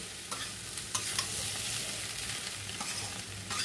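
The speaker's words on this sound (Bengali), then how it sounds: "একসাথে নেড়ে নেব।" Jackfruit and onions sizzle steadily in a hot pan while being stirred, with soft scraping strokes over continuous frying hiss and no voices.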